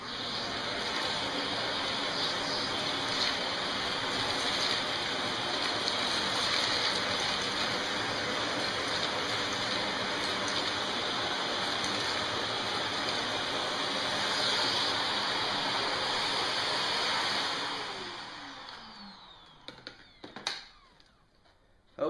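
A brand-new 2019 Shark Navigator Lift Away NV356E vacuum cleaner runs with its hose detached, a steady loud motor roar with a high whine that holds for about seventeen seconds before spinning down, followed by a few clicks.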